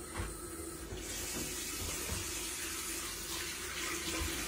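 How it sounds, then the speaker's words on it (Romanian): Hot water runs from a tap in a steady, loud hissing stream that starts just as the flow opens and keeps pouring evenly to the end. "Îi dăm la apă caldă."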